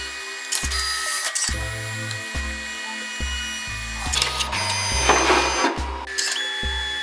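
Canon Selphy CP1500 compact photo printer running a print, its motor whirring in repeated stepped low pulses with brief pauses and occasional rattling mechanical bursts, close and alone without talk.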